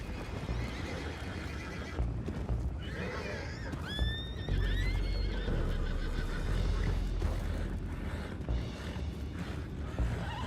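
Horses whinny and neigh in a Red Dead Redemption 2 game scene, with clip-clopping hooves beneath a dense bed of ambient noise and rumble; a couple of rising whinnies stand out near the middle.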